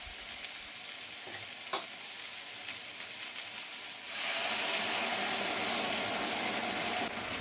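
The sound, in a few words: sauce sizzling as it is added to the chicken and cashew pan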